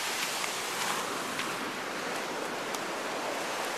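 Steady broadband wash of ocean surf on a foggy beach, a continuous hiss of breaking waves at moderate level with no voices.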